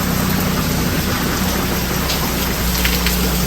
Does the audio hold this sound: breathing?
no